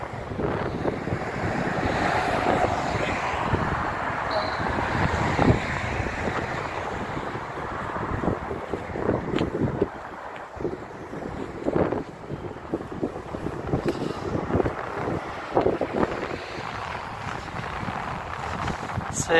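Strong wind buffets the microphone at a football ground, a continuous rushing roar with gusty surges throughout and no clear talk.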